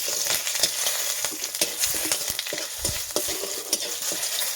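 Bay leaf, green and dried chillies and panch phoron frying in hot oil, a loud, continuous crackling sizzle dotted with sharp spits and pops, close by with no voices.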